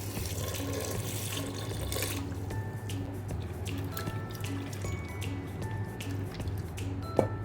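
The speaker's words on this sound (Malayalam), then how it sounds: "ഇനി നമുക്കിതിലേക്ക് ആവശ്യത്തിനുള്ള വെള്ളം ഒന്ന് ഒഴിച്ച് കൊടുക്കാം" Water is poured from a tap into a pot of pumpkin and cowpea curry, a steady splashing stream over a low hum that ends with a faint clink.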